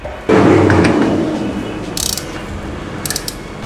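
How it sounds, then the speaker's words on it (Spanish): An axle bolt is slid into a KTM motorcycle wheel hub, giving a loud metallic scrape and grinding slide that fades out, followed by a few light metallic clicks and taps close by. "colocamos el tornillo del eje. Entra solo, ¿eh?"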